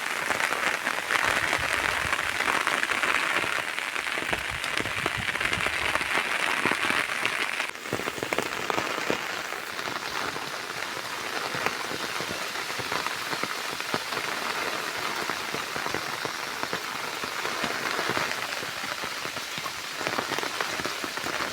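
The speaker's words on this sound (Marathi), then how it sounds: "पाऊस आता जोरात आलेला आहे" Heavy rain pours steadily on surfaces, a dense unbroken patter throughout, loud and close with no speech.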